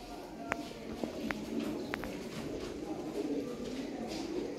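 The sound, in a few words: Sialkoti pigeons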